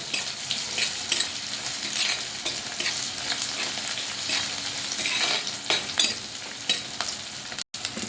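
Sliced plantain for a Kerala-style plantain curry is stirred and fried in hot oil in a pan, giving a steady close sizzle with scraping spoon strokes throughout and no talking.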